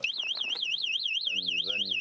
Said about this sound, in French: lorsque le lion s'approche trop près, le collier déclenche une alarme